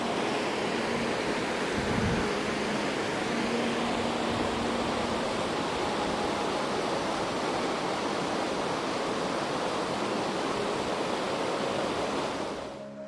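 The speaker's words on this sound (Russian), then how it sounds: "Токпо – это на ладакском просто горный ручей, который берет свое начало в леднике." Glacier-fed mountain stream, called a tokpo, in Ladakh's Sham Valley, rushing as a steady, dense roar of water that stays loud and unbroken throughout.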